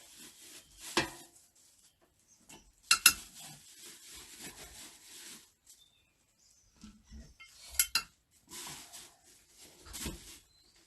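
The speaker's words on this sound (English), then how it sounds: "Put it in the jar, and I've got some stainless steel tongs for doing that." Stainless steel tongs scrape and clink against a jar while food is packed into it, giving intermittent metallic taps, a few sharp clinks and soft rubbing sounds between quiet pauses.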